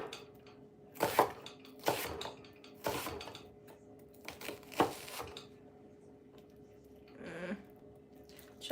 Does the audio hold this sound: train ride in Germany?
no